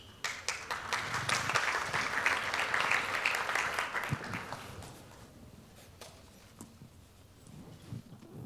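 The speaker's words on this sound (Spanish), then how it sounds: "quiero que lo recibamos con un fuerte aplauso" An audience gives a welcoming round of applause for a speaker at a convention panel, a dense burst of clapping that swells and then fades out over several seconds, leaving scattered claps and room noise.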